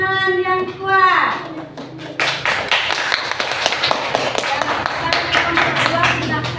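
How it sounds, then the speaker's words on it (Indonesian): A burst of many children's hands clapping together in a classroom, loud and sustained, following a brief sung or called-out phrase from young voices. "berikan tepuk tangan yang kuat"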